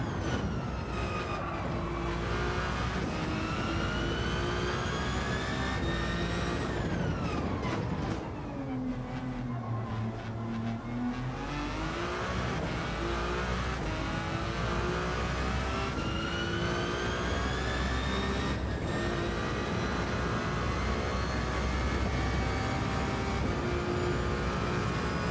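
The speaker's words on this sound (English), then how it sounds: "It sounds like an electric motor whine." A Gr.1 prototype race car in Gran Turismo 7 gives a continuous high electric motor whine, its tones sliding up and down as the car speeds up and slows, dipping low once midway before climbing again, steady and prominent throughout.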